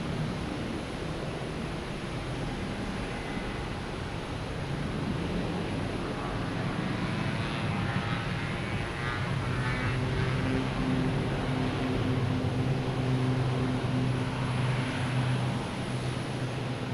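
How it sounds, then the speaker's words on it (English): A JetBlue airliner at Boston Logan Airport bound for Orlando, a moderate, continuous engine roar with a rising whine and low drone that grows slightly stronger in the second half, heard from some distance. "We got JetBlue heading to Orlando."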